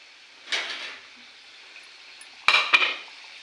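Matar kachori deep-frying in hot oil, a low steady sizzle broken by brief louder bursts of bubbling and spluttering as the pieces are stirred, with faint clinks of a utensil against the pan.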